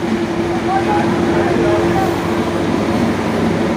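Two trains pass in opposite directions at a station on the Howrah to Belmuri line. They make a loud, continuous rumble with a steady humming tone, and voices can be heard in the background.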